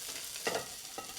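Spam fried rice slides and scrapes out of a new carbon steel wok in two short, close scraping bursts, with no one talking.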